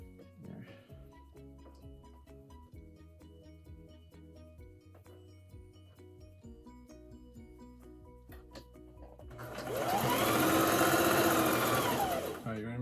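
Sewing machine stitching fabric for a mask hood, running in a loud, steady buzzing burst near the end after a long stretch of quieter background sound.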